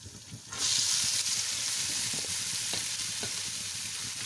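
Pasta goes into a pan of red sauce with chicken, setting off a loud, steady sizzle and frying hiss with faint stirring scrapes underneath.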